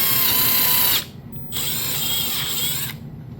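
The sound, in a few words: impact driver drilling wood with a step bit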